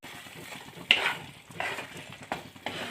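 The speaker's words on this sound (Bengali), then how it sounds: "ভালো করে মিশিয়ে নিলাম।" A spoon stirs a handful of coriander leaves into thick paneer and peas gravy in a pan, making soft scraping and wet squelching strokes up close, with a few louder scrapes against the pan.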